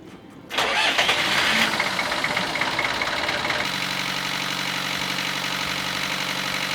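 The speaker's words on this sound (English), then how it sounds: "Now that the engine has run and had a chance to warm up" A car engine turns over and starts, then settles into a steady idle as it warms up ahead of an oil change; loud and close, with a continuous even hum and no talking.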